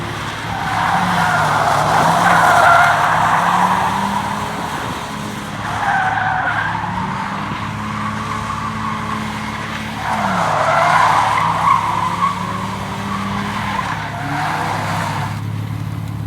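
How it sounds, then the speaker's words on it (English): A BMW E36 skids with its tires squealing loudly in long, wavering bursts, easing off briefly between slides while the engine drones underneath. "I think she skids even better than before"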